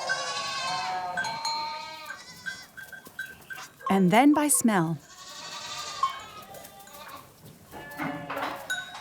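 Several goats bleat in wavering, high cries, one loud nearby call standing out, while a person narrates over parts of it.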